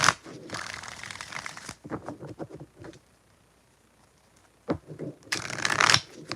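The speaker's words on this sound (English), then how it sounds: "4 more shuffles for Daphne." Tarot cards are shuffled in two quick riffling bursts, one at the start and one near the end, with soft card handling and tapping between them, close and clear.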